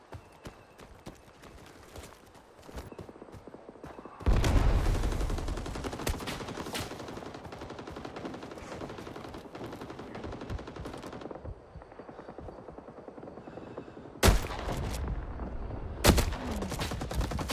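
Ithaca M37 trench shotgun loaded with 04 buckshot firing in the Vietnam War game Rising Storm 2 on the Dong Ha map, a heavy sustained roar of battle gunfire with several sharp, loud booming blasts standing out near the end.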